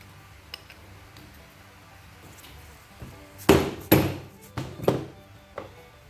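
Several heavy, deadened dead blow hammer blows land on a stuck part of an old Craftsman pressure washer in an irregular cluster, close and loud, after a quieter stretch of faint taps.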